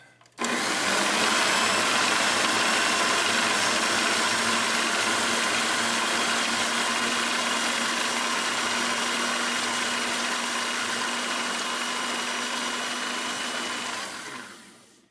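Food processor blending pesto, switching on after a brief pause and running as a loud, steady, close motor whir for about thirteen seconds before winding down.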